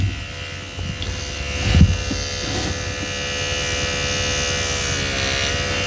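Close, steady electric buzz of an UrYouth microneedling pen set to 0.5 millimeter, continuous with slight shifts as it moves over skin, plus a brief handling bump.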